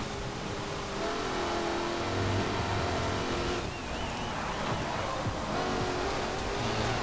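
A car engine in Forza Horizon 4 revs above 7,000 RPM and holds a loud, steady drone, its pitch wavering and climbing at moments, with no pauses.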